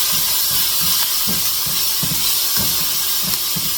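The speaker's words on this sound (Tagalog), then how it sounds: "Ilagay ko ang sausage. Iuna ko ito kasi gusto kong mag-golden brown ang aking sausage." American sausage frying in a stainless steel pan, a steady bright hiss of sizzling fat with faint low pops and crackles recurring through it, close and continuous with no voices.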